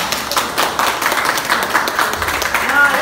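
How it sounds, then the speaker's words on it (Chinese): Hall audience applauds at a Father's Day banquet given by the Juguang Township Office on Dongju, Matsu. A dense, steady wash of clapping runs the whole time, with a voice talking over it. "以最热烈的掌声给他们庆贺一下"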